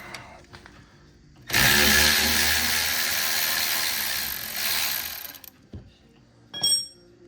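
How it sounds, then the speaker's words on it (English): A bolt on a 2017 Volkswagen Golf Alltrack brake caliper is broken loose with a T45 Torx bit and a 17 mm wrench. A loud, sustained mechanical whirring rattle runs for several seconds, then stops, followed by a few short metallic clicks. "you use your 17 mil wrench to hold the pin in place and then break it loose with"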